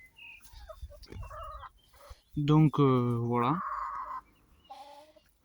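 Hens cluck and squawk loudly close by, with a long, drawn-out cackle in the middle and a brief spoken phrase at the start.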